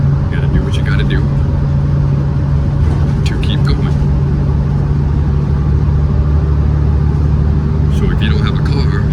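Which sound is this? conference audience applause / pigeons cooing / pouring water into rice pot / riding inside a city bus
riding inside a city bus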